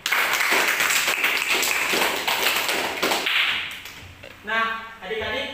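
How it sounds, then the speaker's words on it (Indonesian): Students in a classroom applaud together, a dense burst of many hands clapping that fills most of the clip before fading, followed by a brief voice. "Mari kita berikan aplaus untuk semuanya."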